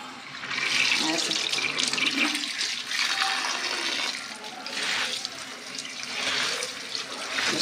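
Saag greens are washed under a running tap, a steady loud stream of water with swells of splashing and rubbing, continuous throughout, with a voice talking faintly underneath.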